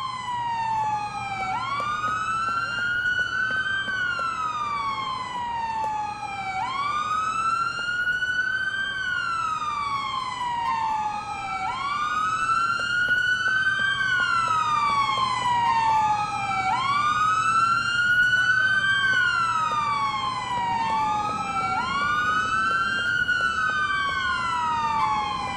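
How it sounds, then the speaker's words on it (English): Police car siren in Grand Theft Auto IV, a loud continuous wailing sweep rising and falling in repeating cycles, close and sustained for the whole stretch with no talk over it. "think you can kill that siren?"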